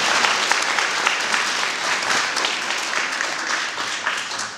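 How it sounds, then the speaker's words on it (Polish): An audience claps steadily through a school evening event marking the 94th anniversary of Poland regaining independence. The applause is dense and continuous, with no talk over it. "Brawa już teraz dla tych osób."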